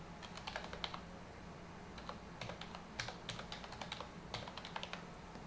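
Quiet, steady typing on a computer keyboard, with rapid bursts of light key clicks and short pauses, close by and alone with no talk.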